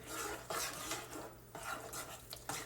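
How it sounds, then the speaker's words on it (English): A spoon stirs SpaghettiOs tomato sauce in a pot, quiet scraping and clinking strokes repeating in an uneven rhythm, close and soft with no talk. "And I'm going to stir this up, see what it looks like, see what it smells like"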